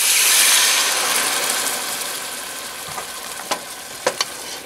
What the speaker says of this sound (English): And then my wine goes in.